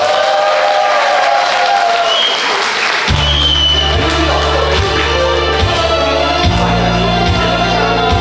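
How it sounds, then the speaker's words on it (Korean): An audience claps during a Chuseok holiday concert at a restaurant, with a steady spread of applause and some crowd noise. A loud low hum and tone come in partway through and continue beneath the clapping. "박수 한번 주세요"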